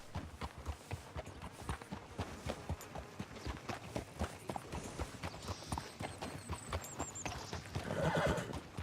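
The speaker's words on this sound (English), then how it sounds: "Fine horse you got there." Horse in Red Dead Redemption 2 clip-clopping steadily at a walk throughout, with a louder neigh or whinny near the end over the game's ambient background.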